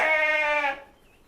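One short, close sheep bleat with a wavering, nasal tone, then quiet.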